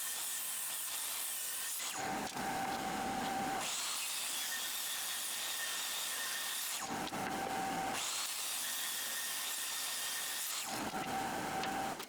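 Power saw rips pallet hardwood into square leg pieces, a loud, harsh whining cut running continuously with three brief drops in pitch and load as each pass ends.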